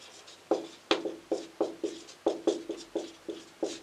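Pen writing on paper in a steady series of about a dozen short scratchy strokes, close and quiet, with no talking.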